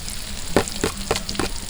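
Garlic sizzles in a hot pan at an outdoor cooking setup, with a steady frying hiss and about four sharp bursts as the garlic is stirred.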